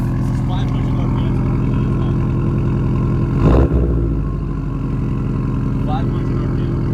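Car engine held at about 500 RPM, a steady, loud, pulsing mechanical drone close by with a brief swell midway, while people talk over it.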